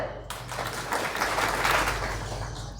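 Audience clapping at a Lingayat religious awareness gathering: a sustained burst of crowd applause that rises after a brief quieter start and holds steady through to the end.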